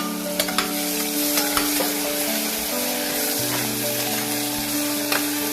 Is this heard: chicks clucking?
no